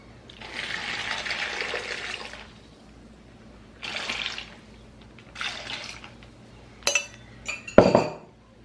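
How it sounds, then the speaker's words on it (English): A liquid marinade mixture poured from a container over large chicken breasts in freezer bags: three separate soft splashing pours, then a few sharp glassy clinks near the end, close by with no talking. "now I'm just gonna pour my mixture over each one"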